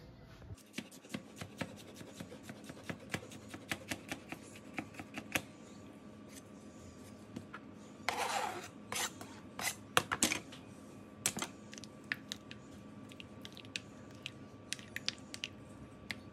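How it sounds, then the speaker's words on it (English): A knife slicing a cucumber on a board in a home kitchen, a long run of quick, crisp, regular taps with a brief wetter crunch midway, close and fairly quiet. "Now I'm gonna cut the cucumber and add it inside."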